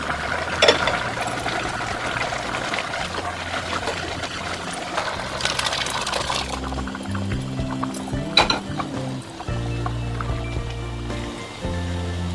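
Liquid poured into a pot of bitter gourd sambar, a close, steady gushing pour with splashy bursts and soft clatter, continuing for several seconds.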